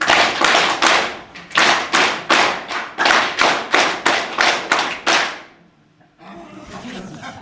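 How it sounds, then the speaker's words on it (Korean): Lecture attendees at a Confucian studies class clap the 3-3-7 pattern together: loud, crisp claps in three-three-seven groups, then a pause and faint murmuring. "337박수 시작"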